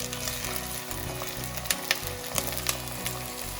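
Small chopped onions hit hot oil in a pan for a Kerala-style crab roast, setting off a crackling, continuous sizzle with a few sharp spatters and pops, close and alone without any voices.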